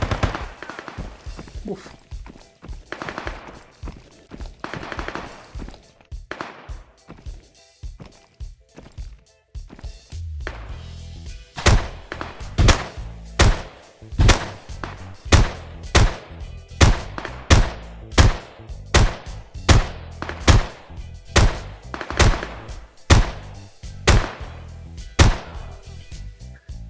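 Gunfire from AI-controlled bots in the VR shooter Contractors Showdown Exfilzone, faint distant shots at first, then a steady run of sharp, evenly spaced cracks growing louder, with a brief exclamation from a player.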